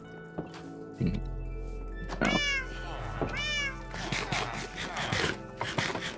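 An orange cat in modded Minecraft meows twice, each meow clear and rising, over a steady low game hum and busy background noise.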